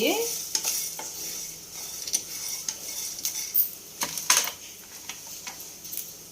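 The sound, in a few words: chicken frying in a pan for chicken fry biryani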